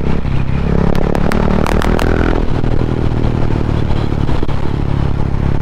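A loud Husqvarna Vitpilen 701 motorcycle idling through an Akrapovic exhaust with no baffles or catalytic converter, a harsh, raw exhaust rumble with a few sharp clattering knocks early on, steady and close.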